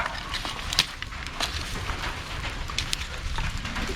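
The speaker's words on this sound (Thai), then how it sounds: "ฝนตกก็ดีครับ" Steady rain patters in a continuous wash of noise, with occasional sharper drops or ticks rising above the hiss.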